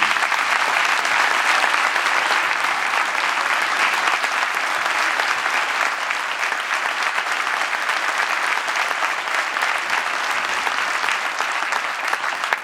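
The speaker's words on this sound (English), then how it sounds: "Let's give them a round of applause, everybody." Sustained, loud applause from a crowd at a welcome-home event for the 2018 Fort Dodge Dodger wrestling team, an even wash of clapping that holds for the whole stretch.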